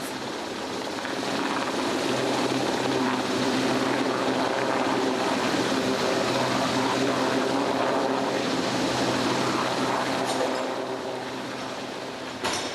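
A military helicopter departs on a training sortie, its broad steady rotor and engine roar holding loud and close for most of the stretch before easing slightly near the end, with no voices.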